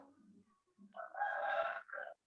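A rooster crows once, fairly close and clear, in a rising then sustained call that breaks off into a short final note, preceded by a few faint low clucks in quiet surroundings.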